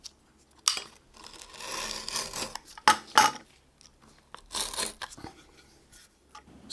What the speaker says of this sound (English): Then I'll cut some 120 grit paper.